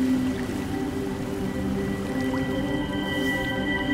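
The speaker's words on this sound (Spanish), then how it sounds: "El agua le cura." Gentle watery squishing, dripping and flowing run steadily through a scene in the video game A Plague Tale: Requiem, with a faint tonal hum underneath and no talking.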